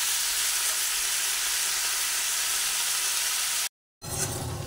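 Already-fried potato pieces stir-frying in a pan for a cucumber, sesame and poppy-seed dish, giving a steady, dense sizzle that cuts out briefly near the end before resuming.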